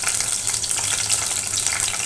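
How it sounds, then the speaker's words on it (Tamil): Fenugreek seeds, cumin, mustard seeds and curry leaves fry in hot coconut oil for a kohlrabi sambar, giving a close, bright, continuous crackling sizzle with fine popping spatters. "இது நல்லா பொரியட்டும்."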